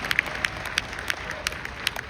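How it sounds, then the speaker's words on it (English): Light, scattered clapping from a small audience at a live seminar event. A few sharp claps ring out at irregular intervals over a quiet room for about two seconds. "So give these guys a nice round of applause."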